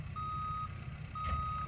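A truck's reversing beeper at a site where a CAT D5 dozer works on a building pad sounds two long steady tones, separated by a pause, over low engine rumble.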